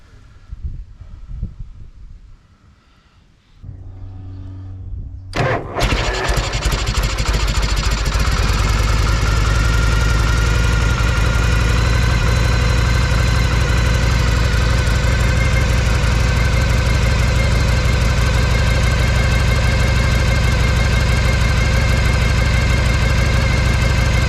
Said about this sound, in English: start it up and let it idle to dry this off